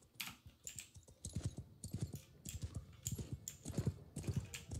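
Horse hooves from mounted horse archers in the video game Mount and Blade, a rapid, rhythmic clip-clop of galloping hooves, fairly close and steady with no talk over it.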